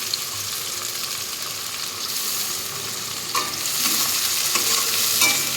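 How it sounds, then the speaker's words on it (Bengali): Chopped onions frying in hot oil with cumin, dried red chillies and whole garam masala: a dense, constant close sizzle with occasional stirring scrapes, and no voices. "আর এদিকে গোটা গরম মশলা জিরে শুকনো লঙ্কা ফোড়ন দিয়ে পেঁয়াজ কুচিগুলো একটু লাল লাল করে ভেজে নিই"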